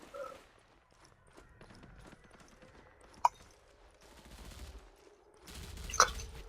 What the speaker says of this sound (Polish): słychać strzały, ale jednak